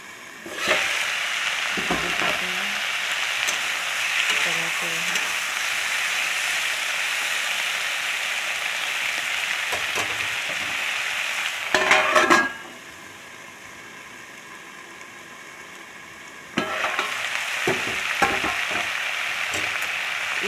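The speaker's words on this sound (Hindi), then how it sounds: "दो कटे हुए टमाटर डाल दीजिए।" Chopped tomatoes frying in a pan, a steady bright sizzle running throughout, with a few clattering stirs and a short quieter stretch midway before the sizzle returns.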